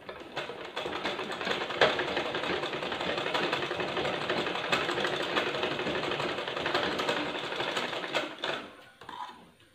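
An ordinary domestic sewing machine stitches elastic onto a skirt made from old jeans: a continuous, fast mechanical whirring and tapping that runs for several seconds at moderate volume, then slows and stops near the end, with no voices.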